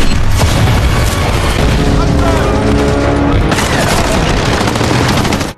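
A Soviet 45mm anti-tank gun fires at German tanks amid heavy, loud battle noise of repeated booms and rapid gunfire bursts, dense and continuous throughout.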